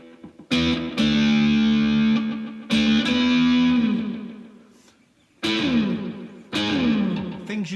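Cigar box guitar played through a Danelectro Dan Echo pedal at maxed settings, loud distorted strums that ring out with heavy echo and warbling, pitch-swooping repeats, several bursts separated by decaying tails and a brief near-silence.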